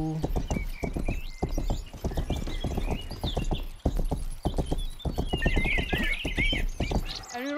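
Horse hooves clip-clop in a quick steady gait in the game Rustler, loud and close, with a brief whinny near the end and no talk over it.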